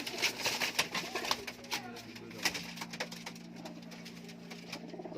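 High-flying Kamagar pigeons cooing in a loft, low steady coos beneath scattered chirps and a rustling, busy background; no words clearly spoken.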